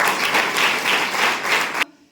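A congregation at a church Christmas celebration in Nashik claps loudly to welcome the pastor, a dense burst of applause that stops abruptly near the end.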